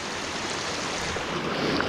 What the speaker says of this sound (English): This water all running down amongst all the other streams down into the Garden Dam